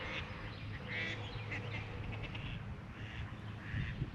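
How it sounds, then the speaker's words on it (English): Big ducks quacking at a distance near a fishing spot, scattered faint quacks over steady outdoor noise and low rumble, with no voices. "Those are some pretty big ducks over there."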